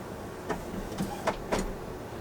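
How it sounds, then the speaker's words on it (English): An Epson WF7720 printer with a CISS ink kit printing sublimation paper for a T-shirt: a faint mechanical whir and a few soft clunks and sliding strokes of the print head, with no one speaking. "I'm printing out the sublimation paper, the picture that I'm gonna put on the shirt"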